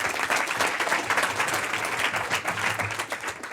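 An audience at a pitch event claps steadily, a moderate, even wash of many hands with no talking over it, sustained for a few seconds.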